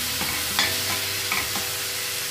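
Onion sautéing with salt in a pan gives a steady close sizzle, with a few soft spatula scrapes and stirs standing out over it.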